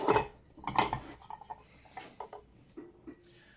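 Ceramic dishes from a newly bought tableware set, including plates and cups, clink and scrape as they are handled up close in a series of short, sharp knocks.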